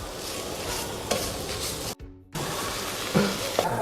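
Dry scraping and faint sizzling from a hot pan, with a utensil stirring in uneven strokes and a brief near-silent gap midway.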